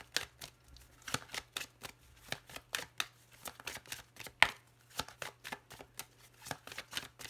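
Large tarot cards are shuffled and handled in quick, crisp riffling bursts, close and fairly quiet, with a low steady hum beneath.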